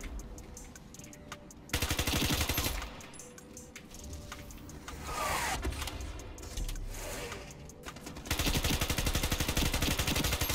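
Rapid automatic bursts from a PP90M1 submachine gun in the shooter game Ironsight, with a quieter stretch of gameplay noise between a sustained burst near the start and another near the end.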